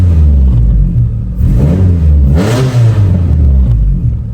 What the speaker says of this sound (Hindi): अब हम अपनी स्टॉक K24 2000 को रेस दे के चेक करते हैं